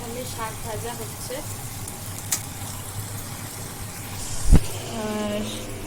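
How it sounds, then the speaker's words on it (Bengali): Leafy greens frying in a pan during home cooking for a birthday meal, a steady sizzle with occasional stirring clatter, close by, while people talk over it. "এখানে শাক ভাজা হচ্ছে,"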